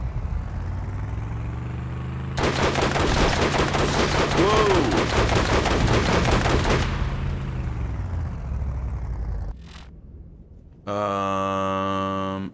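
Rapid gunfire in the shooter Borderlands, a loud sustained burst of rattling shots lasting several seconds over a low engine drone, then a short sharp blast and a steady tonal hum near the end.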